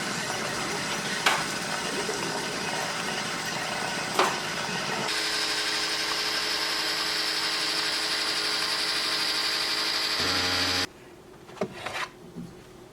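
A Keurig coffee machine brews a 10-ounce cup, a steady loud mechanical hum and hiss running for several seconds, then cutting off near the end, with a few clicks and knocks before and after.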